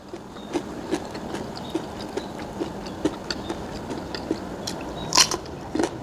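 Crunchy bites and chewing of raw eggplant during a mukbang, heard as a series of sharp, close crackling crunches at a regular pace over faint background hiss.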